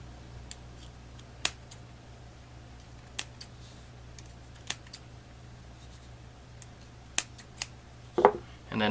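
Sharp scissor snips trimming cotton while building a vape atomizer sound at irregular intervals, about a dozen quick close clicks over a quiet background hum, with a soft rustle near the end.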